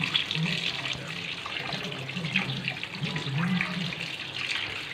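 Running tap water splashes steadily into a sink while fish is rinsed for home-style frying, a continuous close wash of water with faint handling sounds and no talk.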